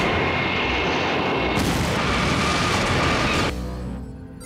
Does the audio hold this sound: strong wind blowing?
no